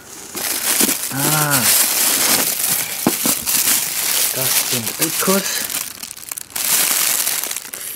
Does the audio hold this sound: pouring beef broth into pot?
no